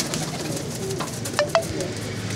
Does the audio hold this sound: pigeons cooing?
yes